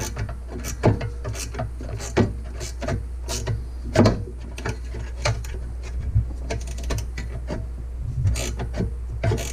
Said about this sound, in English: you'll use a 10mm wrench or socket and ratchet to get these tightened up to hold this into place